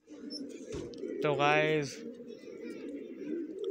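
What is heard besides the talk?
pigeons cooing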